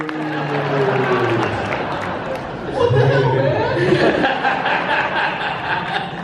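Crowd noise from a horror convention audience at Texas Frightmare Weekend, with loud cheering, chatter and scattered laughter that swell after a pause, while a voice talks over it throughout.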